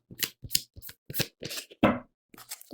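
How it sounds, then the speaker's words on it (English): Stiff new tarot deck being shuffled by hand, a run of separate riffling bursts with short pauses between them, close and fairly crisp, with no one talking. "do a little bit more shuffling"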